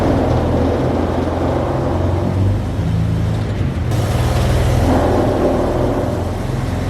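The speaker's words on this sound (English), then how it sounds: "as soon as you lower the car, these fins scrape against the tire, making the car rub super loud." Lowered BMW M4 G82 with its tires scraping against the plastic fender-liner flaps, a loud continuous rubbing and droning roar over road and engine noise while driving, with no talk.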